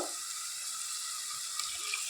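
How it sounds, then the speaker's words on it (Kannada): Water pours steadily into a pot of chicken soup with a chicken stock cube, a continuous close hiss lasting the whole moment with no talking. "ನೀರು ಹಾಕಿದ್ದೀನಿ ಎಷ್ಟು ಬೇಕಷ್ಟು ನೀರು ಹಾಕುವ"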